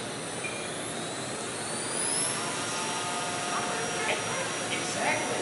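A small electric motor on a model helicopter whines steadily at high speed, a bright, sustained close-up drone that climbs slightly in pitch partway through and then holds steady.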